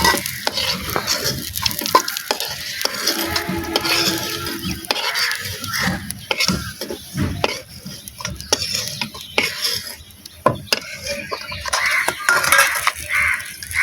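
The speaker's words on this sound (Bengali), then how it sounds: "ভালো করে ভেজে নেব শুকনোটা। এগুলো ভাজা হয়ে গেছে" Dried fish frying in a hot pan, heard as a steady loud sizzle broken by frequent scraping and stirring strokes and light metal clinks of a spatula against the pan.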